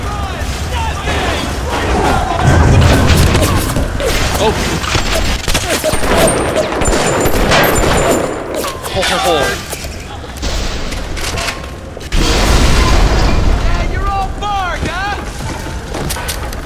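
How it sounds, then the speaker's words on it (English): Shotgun blasts in the video game BioShock, several heavy booms among busy game noise, with a voice talking over parts of it. "Okay, shotgun."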